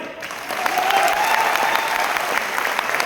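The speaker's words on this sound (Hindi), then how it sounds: "ताली हो जाए भाई।" An audience claps in a dense, sustained burst of applause at a business talk, loud and continuous throughout with no voices over it.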